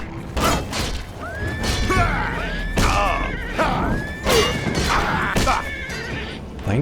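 A horse in the Elder Scrolls Oblivion video game whinnies several times in rising, wavering calls over a steady bed of game ambience, close and clear.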